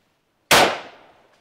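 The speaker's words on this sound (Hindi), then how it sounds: "Single shot fire." One rifle shot fired during an Assam Rifles military drill: a single loud, sharp crack that rings out and fades over about a second, with nothing else heard.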